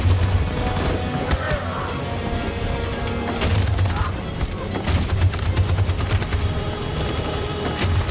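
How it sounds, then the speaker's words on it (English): Heavy machine gun fire in the video game Detroit: Become Human, a loud continuous barrage of rapid shots with booming impacts and battle noise, a voice briefly calling out over it. "That machine gun is taking down everything that moves!"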